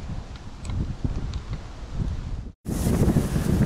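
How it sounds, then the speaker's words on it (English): Loud wind buffeting the microphone of a camcorder in a bowhunting stand, a constant low rumble, cutting out briefly near the end before roaring back just as strong. "it is windy"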